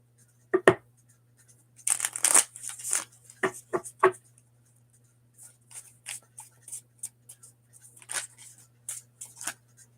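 Tarot cards shuffled up close, irregular bursts of riffling and slapping card noise separated by quiet pauses, over a low steady hum.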